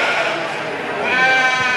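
Corriedale sheep bleating in a livestock show ring, a close, loud, wavering harmonic cry that swells toward the end over a murmur of crowd noise.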